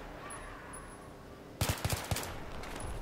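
Battlefield 3 gunfire in a co-op mission: a quick cluster of four or five sharp, loud shots bursts out after a quiet stretch of ambient battlefield noise with distant bird-like calls.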